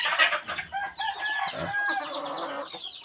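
A gamecock rooster and a hen cluck and chatter up close on a fighting-cock farm, a busy run of short calls with a brief higher squawk, no talking over them.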